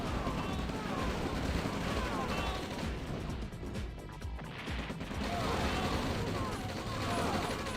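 Gunfire in the real-time strategy game OpenRA Red Alert: dense, continuous battle noise of rattling shots, bursts and explosions, loud and layered throughout with a brief dip in the middle, with a commentator talking over it.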